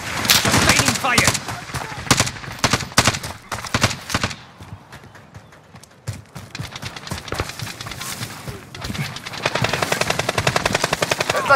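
Rapid gunfire in a multiplayer shooter video game, dense bursts of automatic shots with short pauses, loud and close, layered over game effects and music.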